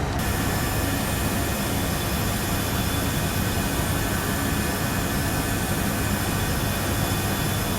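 Boeing 777 jet engine in the Prepar3D flight simulator, a loud steady broadband roar with an even whine that holds unchanged throughout, with no voices.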